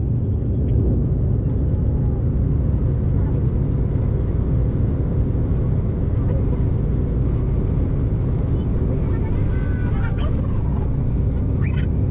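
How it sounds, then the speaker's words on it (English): Steady, loud low-pitched drone of a small plane's cabin in flight, constant and unbroken throughout, with faint voices briefly showing through. "I guess it's that thing about small planes being louder."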